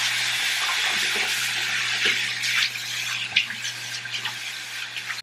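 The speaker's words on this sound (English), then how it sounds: "And then I'm just gonna rinse it." Tap water runs steadily from a faucet while a face is rinsed, with a loud continuous hiss and small splashes and shifts in the flow near the end.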